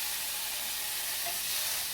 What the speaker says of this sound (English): we're going to add those both to the pan to get toasted up and simmered.